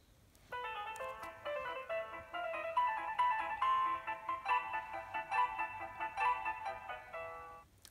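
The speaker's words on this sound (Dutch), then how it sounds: "Ja, alle muziek die je nu hoort is van Mozart." Mozart piano music plays as a bright, clear melody of quick notes and chords, moderately quiet and heard alone.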